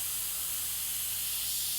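A steady, close airy hiss of an airbrush spraying paint runs unbroken for under two seconds, with no voices.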